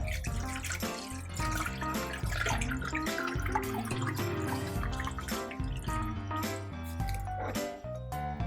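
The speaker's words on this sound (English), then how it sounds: "add the water and start boiling it" Water pouring steadily into a pot for boiling on a stove, a continuous splashing stream with faint clinks, running without pause throughout.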